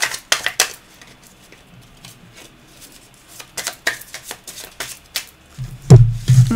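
Oracle cards for a Belline card reading being shuffled by hand, a series of short crisp riffling bursts and soft card flicks close up, with a low thump near the end.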